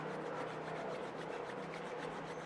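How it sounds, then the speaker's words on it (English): Two hands rub together vigorously and continuously, a steady close swishing friction with no pauses. "we just keep rubbing pretty vigorously like this for a little bit"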